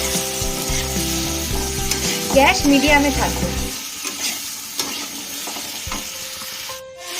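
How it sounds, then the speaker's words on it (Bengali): Crushed ginger frying in oil over medium heat, with a steady close sizzle and some stirring clatter early on, fading to a quieter sizzle; someone speaks briefly over it. "আর দিয়ে দেবো থেতো করে রাখা আদা। ভালো করে ভাজা ভাজা করে নেব"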